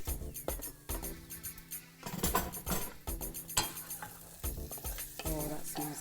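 Chilies fry gently in olive oil in a pan, with a steady soft sizzle under repeated close scrapes and clinks of a utensil stirring against the pan.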